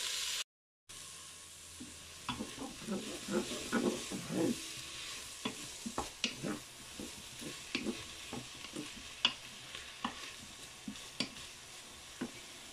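Pieces of food fry and brown inside a Cookeo electric pot, with a continuous soft sizzle broken by repeated crackles and utensil scrapes as the food is stirred, after a brief silent gap at the start and no talking.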